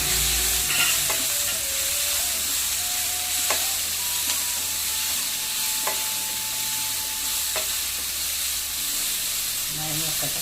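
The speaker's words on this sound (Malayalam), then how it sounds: "അതിലേക്ക് 10-15 ചുവന്നുള്ളി ചതച്ചതും നല്ല സവാള അരിഞ്ഞത് നന്നായി മൂപ്പിക്കും." Crushed shallots and chopped onion sizzle in hot oil with mustard seeds in a pan for a homemade Kerala crab curry, a steady loud frying hiss broken by a few clicks of stirring.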